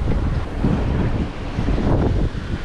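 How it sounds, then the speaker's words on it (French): Strong wind at sea buffets the microphone aboard a sailboat on a solo passage from the Canaries to Cape Verde, a loud, gusty low roar with waves and hull noise beneath and no talking. "Ah, tu en veux du vent, je t'en envoie."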